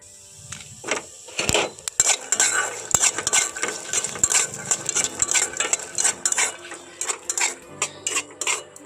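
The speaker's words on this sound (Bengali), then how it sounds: "এখানে কিছুটা বাদাম আমি এই তেলের মধ্যে ভেজে নেব এর সঙ্গে এখানে আমি দুটো শুকনো লঙ্কাও ভেজে নেব" Peanuts and dried red chilies frying in oil while a utensil stirs them in the pan, with repeated clinks and scrapes of metal in an irregular rhythm over a soft frying hiss, close and fairly loud, no talking.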